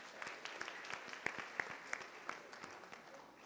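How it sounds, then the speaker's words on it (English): Steady applause from a crowd, many hands clapping at once in a continuous patter, heard from a moderate distance and fairly soft. "Let's give him another round of applause."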